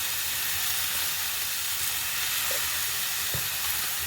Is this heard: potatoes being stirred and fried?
yes